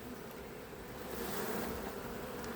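A swarm of honeybees clustered around their queen on a homestead gives a dense, continuous buzzing drone that holds steady at moderate loudness without pause.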